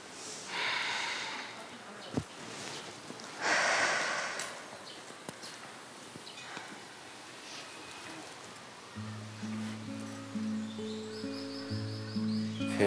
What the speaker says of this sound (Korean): 새소리 봐. 세상에.